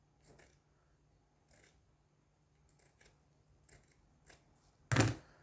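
Scissors cut craft material for a Santa Claus decoration in a quiet room. Five or six separate snips come at irregular intervals, and the last one is the loudest and closest.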